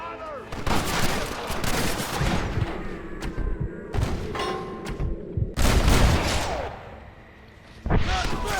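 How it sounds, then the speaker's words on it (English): A Gatling gun fires in bursts of rapid, loud gunfire during a Red Dead Redemption battle, with heavy booming shots and short pauses between volleys, close and dense throughout. "Oh good, more Gatling guns."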